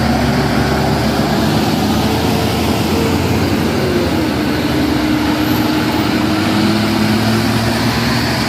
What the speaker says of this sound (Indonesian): Truk kanter ya bosku, ADL muatan bibit sawit gagal nanjak